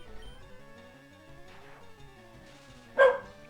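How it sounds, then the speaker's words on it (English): A dog barks once, a short loud burst near the end, over steady game music playing throughout. "There's nothing to bark at!"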